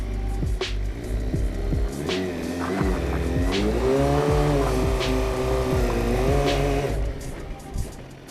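A motorcycle revs hard during a rolling burnout, its engine rising and holding a loud, throaty drone while the rear tire squeals and scrubs in repeated bursts before the noise eases off.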